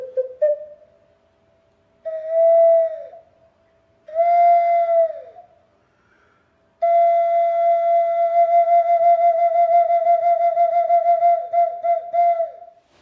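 Ancient ocarinas, whistles and flutes played one after another: clear, pure breathy tones in short held notes, then a longer sustained passage with small pitch dips and trills, loud and close with no talk.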